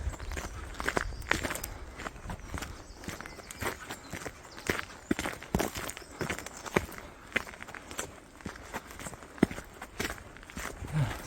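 Footsteps crunch steadily along a forest trail on the Camino early in the morning, an irregular walking rhythm of soft, close steps over a quiet outdoor background with faint hints of birds.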